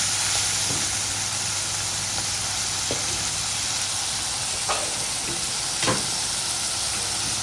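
Boiled eggs fry in hot oil, giving a loud, even sizzling hiss throughout with a few faint taps from the pan or spoon and no voices.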